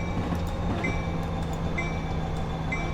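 A Metra SD70MACH locomotive runs in Train Simulator 2019, giving a steady rumbling engine drone with faint rail noise and brief higher tones, and no speech over it.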